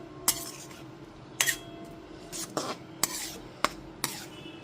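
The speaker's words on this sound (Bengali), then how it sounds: "হাতা দিয়ে একটুখানি এরকমভাবে চেপে চেপে দিচ্ছি।" A metal ladle pressing and tapping boiled lentils in a pot, giving a series of sharp metallic clinks and scrapes spaced roughly a second apart, close and fairly quiet, with soft squelching between strikes.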